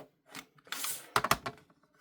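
Quilt fabric square being trimmed, a few quick crisp snips and cutting clicks in a short close-up burst, the sharpest pair in the middle.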